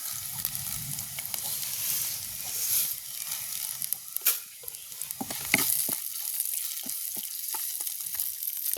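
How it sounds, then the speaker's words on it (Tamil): Fenugreek seeds frying in oil in a pan, a steady crackling sizzle broken by scraping stirs and a few sharp clicks of the spoon against the pan. "இப்போ நாங்கள் இதோட வெந்தயம் சேர்த்துக்கொள்ள போகிறோம்."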